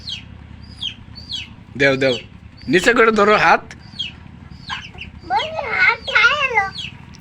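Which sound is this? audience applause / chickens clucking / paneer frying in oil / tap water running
chickens clucking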